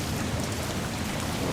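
Rain falls at a flooded Lake Conway, a dense, steady hiss and patter with a low rumbling undertone, loud and continuous for the whole moment with no voices.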